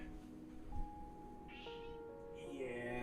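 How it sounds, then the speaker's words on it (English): A pet cat meows faintly in a quiet room, a couple of short drawn-out cries near the middle and end, soft and somewhat distant over low background hum. "Socks is just meowing at me"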